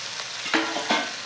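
Spice paste made with mustard oil and green chilies fries in a pan with a soft, continuous sizzle, broken by a few brief scraping stirs of a spoon, close and fairly quiet with no voices.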